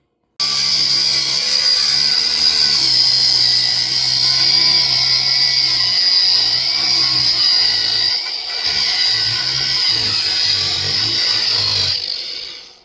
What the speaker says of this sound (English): we got done with chipping off the garage trim piece